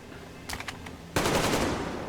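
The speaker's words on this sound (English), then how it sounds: "shoot one of the barrels just until it's got a few holes in it" Gunshots fired at a metal barrel in the game Metro Exodus: a short burst of rapid shots, then a louder, sustained blast of noise that slowly tails off, with no talking.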